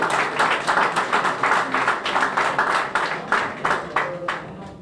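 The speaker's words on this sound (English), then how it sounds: "Let's give her a round of applause." Audience applause at a community grand opening ceremony, a steady, moderately loud stretch of many hands clapping with a visible clap-by-clap pulse that fades at the end.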